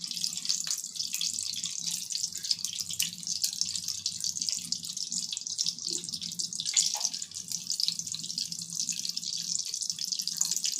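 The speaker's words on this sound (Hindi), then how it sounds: "इसमें हमने टिक्कियाँ जो है वो फ्राई पैन में अपनी डाल दी हैं" Potato patties (aloo tikki) sizzle in hot oil in a frying pan, a steady close hiss and crackle running evenly throughout with no voices over it.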